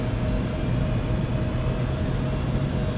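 The jet engines of an Embraer airliner in a P3D flight simulator spool up as the throttles advance, giving a steady, dense roar with a faint whine above it that holds at an even level throughout.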